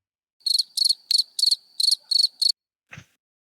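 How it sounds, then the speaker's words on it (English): Crickets chirp in seven quick, evenly spaced bursts, bright and close, followed by a single short, softer rasp after a brief pause. "Crickets."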